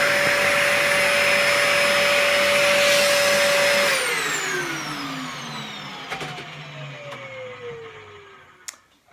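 A Dyson DC04 vacuum cleaner runs loud and steady with a high whine, then powers down, its pitch sliding lower as the motor spins to a stop, followed by a few faint clicks.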